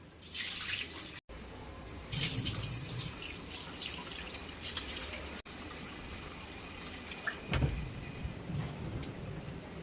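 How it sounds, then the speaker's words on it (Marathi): Water is poured off a ball of freshly churned butter for homemade ghee, a low gurgling trickle and splashing into a vessel, with a louder splash near the end and quiet background hum. "हे पाणी आपण आता ओतून देणार आहे"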